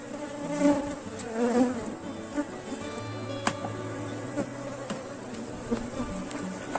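A swarm of honeybees buzzing densely around hive boxes at an apiary, a continuous, close, droning hum with individual bees flying past the microphone, no speech over it.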